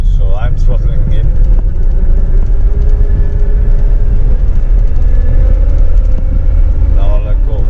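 A Ford Expedition engine, a 2006-2012 model with its rear differential and CV axle removed, revs steadily under throttle as a loud, continuous low rumble with faint talk over it.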